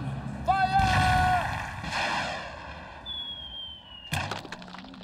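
A cartoon circus cannon shooting a man: whistling tones and a rumbling build-up give way to a sharp, cracking bang near the end.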